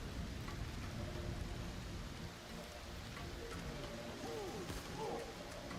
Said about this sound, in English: The rain is trying to stop me.